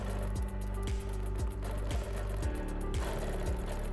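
A sewing machine quilting rows of hexagons guided by a ruler template, with a steady close mechanical whir and a regular thumping rhythm of needle strokes running continuously throughout.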